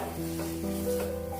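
Khoya and palm jaggery are stirred in a hot pan, giving a soft, close scraping stir over a low, steady sizzle.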